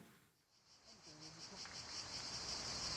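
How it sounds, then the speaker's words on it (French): Cicadas singing, a pulsing high buzz that swells steadily louder over a few seconds against a quiet outdoor background, with faint voices low beneath it. "c'est les cigales."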